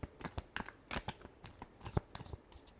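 Tarot cards being shuffled, a quick run of soft crisp riffles and taps, close and alone without talk.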